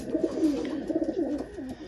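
Pigeons in a loft of young flying birds, including grizzles and black ones, coo softly in low, throaty warbling bursts, several overlapping close by over a quiet indoor background.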